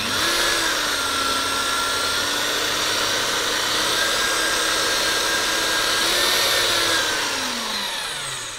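An orbital tube squaring machine with a carbide tip shaves a tube end, giving a loud, steady, close-up whine that rises and falls slightly in pitch, with no voices.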